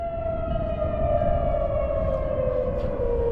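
A loud, steady siren wails continuously with a slowly falling pitch near the Delaware River, filling the scene with no voices.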